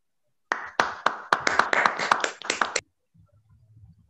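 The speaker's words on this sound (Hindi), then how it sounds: "जोरदार तालियां" A short burst of close, distinct hand claps during an online recognition webinar, about ten quick claps over two seconds from a single or few participants, then silence with a faint low hum.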